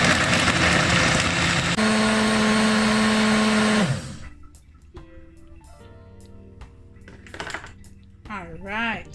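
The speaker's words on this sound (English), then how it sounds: "I'm just gonna add my ice. Oops, pull right up, and I'm gonna blend it up." A blender whirs loudly and steadily for about four seconds, crushing ice into a sea moss, flaxseed, mango, pineapple and banana smoothie, then cuts off, leaving quieter kitchen sounds and a voice speaking afterward.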